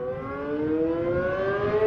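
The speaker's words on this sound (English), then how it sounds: "and then the sirens" A tornado warning siren wails during a severe storm, a loud steady mechanical tone slowly rising in pitch and sustained without a break.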